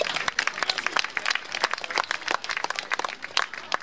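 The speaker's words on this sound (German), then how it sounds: "auch an die alle nochmal ein riesen Dankeschön," Outdoor crowd at a vigil in Braunschweig applauding, a loose scattering of individual claps with uneven rhythm, moderately close and without voices on top.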